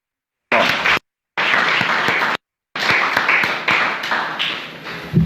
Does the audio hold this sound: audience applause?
yes